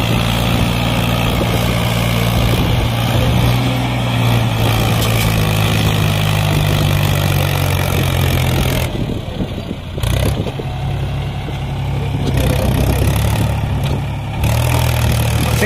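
A Swaraj 744 XT tractor and a Mahindra 26 tractor in a tug-of-war produce a loud, continuous, heavy engine roar that labours and surges close by without a break.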